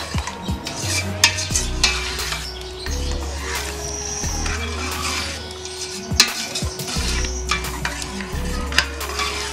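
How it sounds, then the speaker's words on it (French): A spoon scrapes and stirs a thick peanut paste sauce in a pot, the sauce sizzling loudly the whole time, with repeated rhythmic strokes near and clear. "J'ai ajouté un peu d'eau et je continue à tourner ma pâte."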